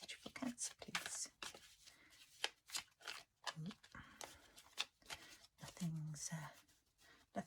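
Soft, close riffling and slapping of a mystical cat tarot deck being shuffled in bursts, quiet and intimate, with hushed talk between the card sounds.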